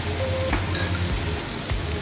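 Steady crackling sizzle of spices, green chili and onion frying in hot oil for a tempering for Rajasthani kadhi pakoda, loud and continuous, with a few soft clinks of a utensil stirring.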